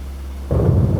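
Cartoon thunder before rain, a sudden deep rumbling roll that breaks in after a quiet moment and stays loud to the end.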